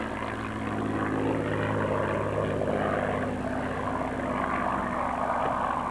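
A P-51 Mustang fighter rolls through a flypast at an air force base airshow, its piston engine producing a steady loud droning roar with a rumbling low hum that holds throughout.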